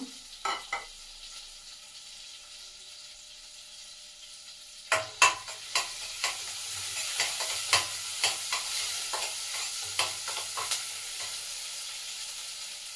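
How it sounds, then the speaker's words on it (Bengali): Ginger frying in hot butter for a momo soup, a quiet lull first, then a run of sharp utensil scrapes and taps against the pan over a soft sizzle, fairly close and steady in rhythm. "বাটারটা গরম হয়ে গেছে, তার মধ্যে আদাটা একটু ভেজে ভেজে নেব"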